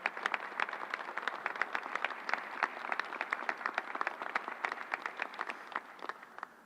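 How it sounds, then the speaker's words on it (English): Applause at a public press event in New York for nurses, doctors, technicians and National Guard members, a crisp, sustained run of claps from a modest crowd, close and even for several seconds. "Let's give them a big round of applause."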